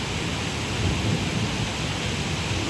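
A heavy thunderstorm with rain pours down in a dense, unbroken roar and low thunder rumble, loud and steady throughout.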